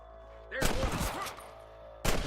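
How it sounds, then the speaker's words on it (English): Gunfire in the Red Dead Redemption video game comes as a loud burst of shots, a pause, then another sharp volley, close and alone. "I can hear more gunshots."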